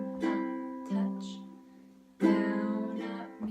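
Ukulele jazz strum ending with a swing feel, mixing touch, down, up and muted strokes: a few bright chord strums with short muted gaps, fairly quiet and close, no talking.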